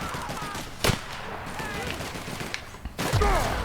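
Sharp pistol shots in the sci-fi shooter The Outer Worlds, one loud crack near the start and a heavier burst later, set against game combat noise and sci-fi effects, with a voice speaking in the background.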